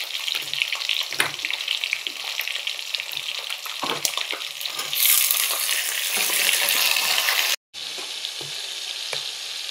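Browned onion and tomato sizzle steadily in a hot pan, with scraping stir strokes and brief clacks of a spoon breaking through the continuous frying hiss.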